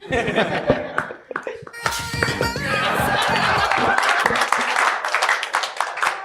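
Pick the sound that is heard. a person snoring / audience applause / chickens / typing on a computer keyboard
audience applause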